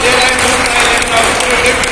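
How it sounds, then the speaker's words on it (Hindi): An audience bursts into loud, dense applause, a steady wash of clapping from many hands at a training session, close and continuous throughout. "तो एक बार मैडम के लिए जबरदस्त ताली होनी चाहिए"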